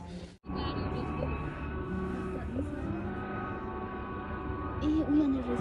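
On a hike through Tai Mo Shan Country Park, a helicopter flying below the trail makes a steady, droning rotor hum that lasts the whole stretch at moderate distance, with voices talking over it.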